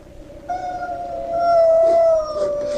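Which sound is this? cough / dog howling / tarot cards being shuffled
dog howling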